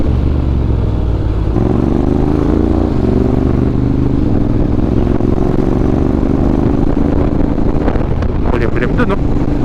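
Honda XADV 750 motorcycle riding through rain on a wet, slippery road in Liliw, Laguna, its engine droning steadily and close with wind rush over the microphone, loud and continuous, a brief burst of rattling near the end.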